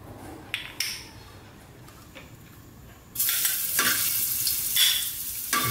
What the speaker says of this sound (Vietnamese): Khi chảo dầu nóng mà nó phi tỏi cho nó vàng, xong mình đổ sả vô mình phi.